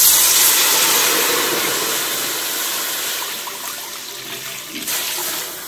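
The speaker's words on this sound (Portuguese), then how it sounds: "1 litro de água, coloca na sua panela." A liter of water pours into a cooking pot in a kitchen, a loud continuous rushing splash that slowly softens as the pot fills, with no talking.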